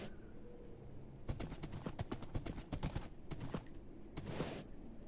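A horse's hooves clip-clop in the Minecraft video game as a quick run of sharp, close taps in irregular bursts, over a quiet background hum.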